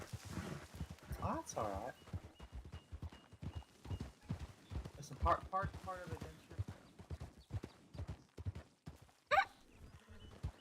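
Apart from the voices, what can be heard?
horse hooves clip-clopping, from a video game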